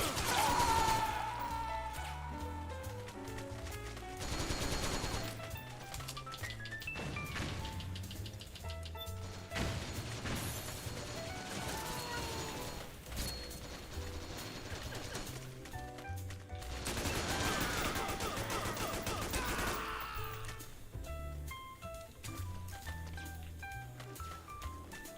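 Tranquilizer pistol shots ring out in a video game amid dense game music and effects, repeated sharp bursts scattered through a busy, layered mix, faint and distant in level.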